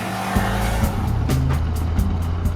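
Maruti Suzuki Dzire sedan with the 1.3-litre Fiat-sourced Multijet diesel engine, 75 hp, driving along with a steady engine drone and rising and falling revs, loud and close throughout with no talk.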